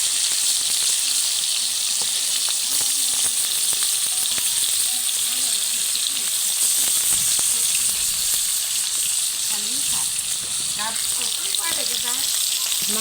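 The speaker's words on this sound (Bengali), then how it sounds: "মাংস এখন ভাজা হয়ে গেছে" Chicken pieces fry in a pan for a chicken roast, giving a steady, close sizzle with constant hiss and faint crackles throughout and no voices over it.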